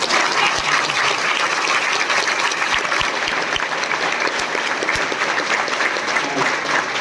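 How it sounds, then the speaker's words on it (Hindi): Long, loud applause from the audience at Mahavir coaching institute after a jail superintendent's motivational speech, a dense even wash of many hands clapping continuously, with a few sharp thumps scattered through it. "ताली में थोड़ा बजा दो कुछ देर तक"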